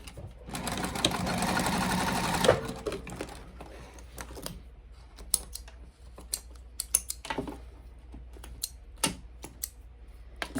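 A sewing machine stitches a leather bifold wallet in one loud continuous run of about two seconds, then falls to quieter clicks and taps as the work is handled.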